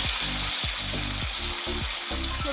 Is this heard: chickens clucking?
no